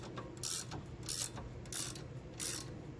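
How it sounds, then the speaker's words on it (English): A ratchet tightens a Torx bolt on a Jeep Compass with four short bursts of clicking, each about a quarter second long with brief pauses between, up close and fairly quiet. "So tighten this up as far as it can go."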